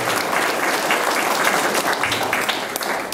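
Family members at a marriage proposal gathering break into dense, continuous applause, loud and close, holding steady before thinning slightly at the end.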